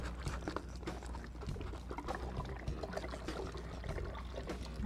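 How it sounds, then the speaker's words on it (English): Water swirls and sloshes inside a shaken tornado-in-a-bottle, a steady close liquid churning with patter and trickling that goes on throughout. "So you shake it up a little bit to get the water rotating."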